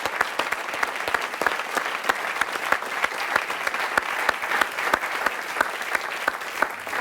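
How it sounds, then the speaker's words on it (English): Audience applause from a live theatre crowd, a dense, steady wash of many hands clapping at even loudness throughout, with no talk over it. "can we have a round of applause for our live music that we had this evening?"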